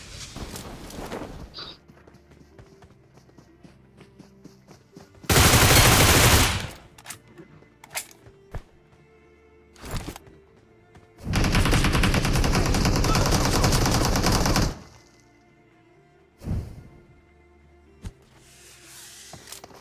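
Battle royale game gunfire: two long sustained bursts of automatic fire, loud and close, separated by sharp single shots, scattered footsteps and quieter game noise, with no talk.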